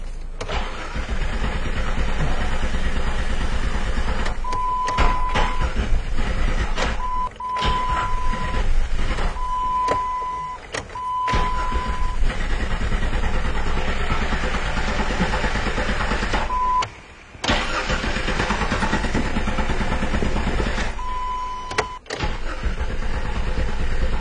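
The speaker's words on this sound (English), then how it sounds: "Let me go ahead and just see if I can start the car." A 2004 Jeep Cherokee with its cam sensor unplugged cranks and runs in a sustained loud engine roar, broken by several brief dropouts, while a short, steady chime tone beeps repeatedly over it.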